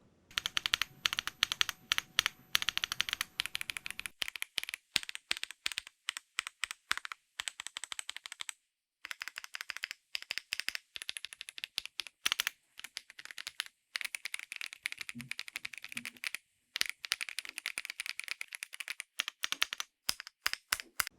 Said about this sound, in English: They sound good for a gaming keyboard, but they're not the best.